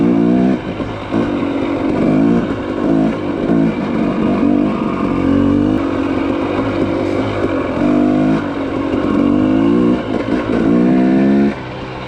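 An electric Sur-Ron dirt bike ridden on a trail gives a loud, close electric motor whine that rises and falls in repeated bursts as the rider speeds up and eases off, with no talk.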